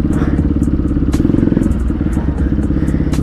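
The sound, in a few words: motorcycle engine running stuck in one gear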